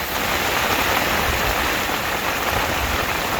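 Rain falls outdoors at a carp fishing lake as a steady, close hiss of dense drops that holds unbroken throughout, with no voices.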